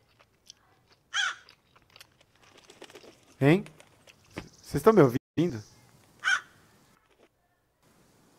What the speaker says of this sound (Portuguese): Vai espantar meu corvo